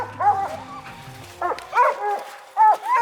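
Treed Walker and Mountain Cur coonhounds bark during a competition coon hunt, several loud, ringing bawls and yips in separate bursts, close by, with a low voice briefly underneath.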